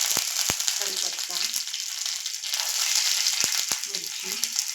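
Cumin, mustard seeds and curry leaves sizzle in hot oil for tempering a cabbage stir-fry, a loud, steady crackling hiss with a few sharp pops and faint talk underneath.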